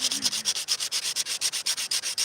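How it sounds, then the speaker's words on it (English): Rhythmic scratching and rubbing across an epoxy resin table surface, about fifteen even back-and-forth strokes, close and steady with no talking. "Just listen to the scratching noise, okay?"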